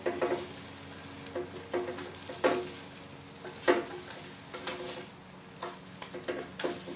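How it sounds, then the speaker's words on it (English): Chicken fajitas being stirred in the basket of an Instant Pot Vortex Plus air fryer, soft scraping and clinking strokes at irregular intervals over a faint crackle, quiet and close, no talking. "So I'm going to open it and I'm going to stir everything around"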